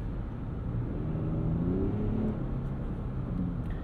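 Quiet, smooth engine drone from a 2022 Lexus RX 350 F Sport accelerating in sport mode, heard from inside the cabin as a low rising hum with faint road rumble and no speech.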